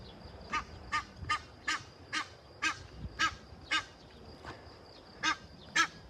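A goose honks in a steady series of about ten loud, evenly spaced calls, each a short nasal blast, with no talking.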